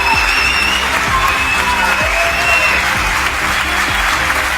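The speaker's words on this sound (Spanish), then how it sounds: "Una ovación larga, honesta, de las que atraviesan la tele y te golpean el pecho." A studio audience gives a long standing ovation on a television show, a dense, steady wall of applause with a few cheers mixed in, loud and continuous throughout.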